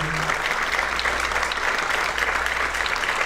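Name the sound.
applause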